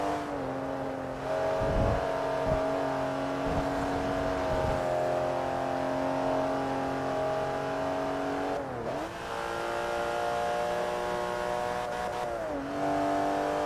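A Porsche race car in Forza Motorsport 3 pulls out of a corner in third gear with a steady, loud engine whine that climbs in pitch, dips briefly at shifts around nine and twelve seconds, then keeps pulling.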